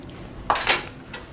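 A date and coconut laddu mixture stirred in a metal pan, heard as a short, close scraping of a spoon against the pan, then a second, softer scrape.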